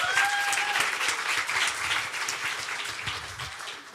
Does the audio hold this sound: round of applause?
yes